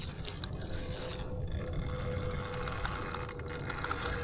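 A fishing reel's drag ratchets rapidly and continuously as a hooked carp pulls line on a big river, a close mechanical clicking over low rumbling background.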